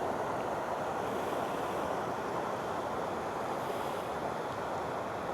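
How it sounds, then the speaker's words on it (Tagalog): Strong current of a wide river in Arayat during monsoon rains rushes steadily, a continuous broad roar of flowing water, loud and unbroken with no voices. "malakas yung agos ng tubig"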